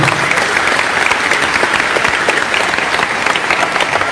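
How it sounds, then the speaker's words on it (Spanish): A church congregation bursts into loud, dense applause for a brother at a service; continuous clapping from many hands, close and sustained, without speech over it. "Un aplauso para el hermano."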